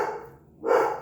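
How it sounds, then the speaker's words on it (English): A pet dog gives two short, close barks indoors, the first cut off and the second louder and fuller, with a brief quiet gap between them. "Sorry about my dog."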